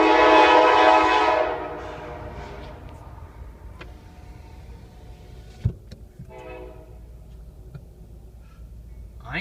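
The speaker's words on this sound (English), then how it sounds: "Got a slow-moving train." A CSX freight train moving slowly eastbound at night sounds a loud, sustained horn blast for about two seconds. It then fades into a low, steady rumble with a few faint clanks.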